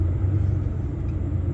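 A heavy truck, a DAF, pulls out from the first lane into the passing lane on a highway at full throttle, its engine a steady deep rumble close by from start to finish.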